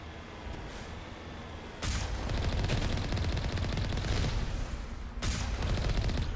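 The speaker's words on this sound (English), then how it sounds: "let's blow up these turrets that are trying to kill us" Sustained gunfire pounds enemy turrets on a moon in Mass Effect Legendary Edition, a dense, continuous rattle of rapid shots with heavy impacts and booms, loud and close throughout with no talk.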